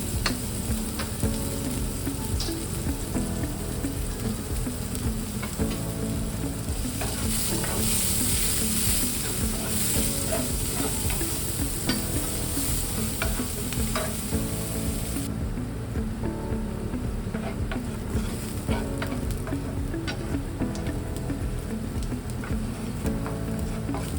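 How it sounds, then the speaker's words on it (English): Chopped shallots sauté in a skillet with a loud, steady sizzle and crackle that fills the whole stretch, with faint scraping from stirring. "Using the same skillet, add the chopped shallots and sauté until translucent and aromatic."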